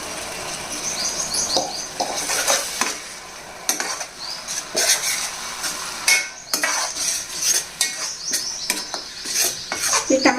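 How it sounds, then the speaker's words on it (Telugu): Tomato pulp fries with onions in a pan, with sizzling throughout and repeated sharp scrapes and clinks of a spoon stirring against the metal, loud and close with no talk. "ఈ టమాటా గుజ్జు పచ్చివాసన పోయేంత వరకు వేగించాలండి"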